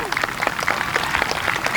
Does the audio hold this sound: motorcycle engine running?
no